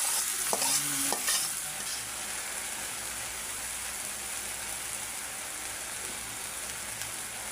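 Jute leaves sizzle and hiss steadily in a hot pan, with a few scraping stirs near the start. After that a broad, even frying crackle carries on alone.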